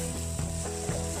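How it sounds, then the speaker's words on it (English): Ginger garlic paste sizzles loudly in a hot pan as it is stirred, with a steady bright hiss and faint scraping strokes from the utensil, close up and without talk. "Now I'll add the ginger garlic paste. Just stir it for 2 minutes so that the paste does not burn."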